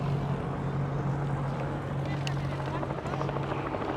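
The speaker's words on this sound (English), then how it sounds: "we'll pan up some of the helicopters circling overhead." A steady, loud helicopter rotor drone fills the whole stretch, with a constant low hum and wind-like rushing, no pauses.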